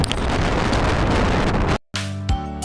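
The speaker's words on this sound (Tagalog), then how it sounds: "Sobrang lakas ng hangin." Loud, rough wind buffets the microphone in a constant roar on the summit of Mount Batuloy, then cuts out abruptly before a short tonal passage.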